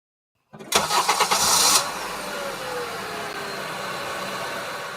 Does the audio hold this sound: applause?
no